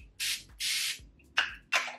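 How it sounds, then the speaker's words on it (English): Four short hissing spritzes of face mist spray onto a face, close and fairly loud, evenly spaced with brief pauses between bursts. "I'm just actually going to spritz my face because I can't bother to wet it."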